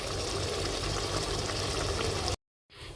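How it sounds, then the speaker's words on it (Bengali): Beef fat sizzles and crackles steadily while being fried for biryani, a dense, close frying hiss that cuts off abruptly near the end before resuming faintly. "চর্বি কষানো হচ্ছে।"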